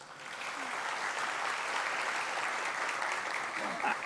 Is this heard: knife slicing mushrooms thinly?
no